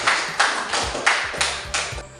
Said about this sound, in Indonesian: Yang kasih tepuk tangan untuk kelompok